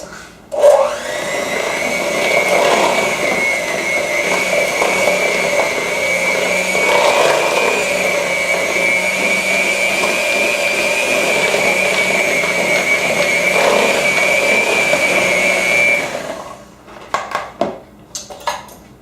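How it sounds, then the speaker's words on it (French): An electric mixer whirs steadily for about sixteen seconds while beating banana cookie batter, a loud, even high-pitched motor whine with a slight rattle in the bowl, then switches off, followed by a few brief knocks. "So now we're going to mix it all with the mixer."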